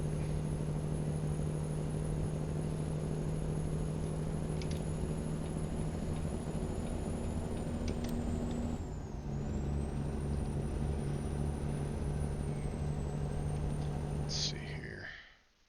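A heavy logging truck's diesel engine with a modded engine sound, driving in American Truck Simulator across ProMods Canada, gives a steady droning hum with a slight pitch shift midway, a short hiss near the end, then a fade, as someone speaks quietly over it.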